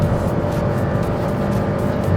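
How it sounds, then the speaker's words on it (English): Cabin noise from a Honda WR-V or Perodua Ativa with a CVT gearbox accelerating hard at full throttle, a loud, steady low engine drone with a constant whine and no voices. "This CVT gearbox is very noisy."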